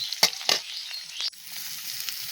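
Chillies and chopped onion fry in a pan for a catering-style chhechra, with two sharp scraping strokes near the start, then a soft, steady sizzle that fades lower toward the end, close by.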